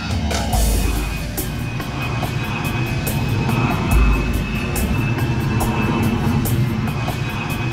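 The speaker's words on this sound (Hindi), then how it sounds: "जल्दी आओ, हवाई जहाज।" An airplane passes overhead at night in a house scene, a loud steady engine drone with rumbling low end that holds through the clip, mixed with faint clatter.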